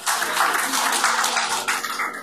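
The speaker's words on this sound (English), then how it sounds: "Give a big round of applause to yourselves." An audience applauds at a corporate hackathon evening, steady dense clapping filling the room for a couple of seconds with no voices over it.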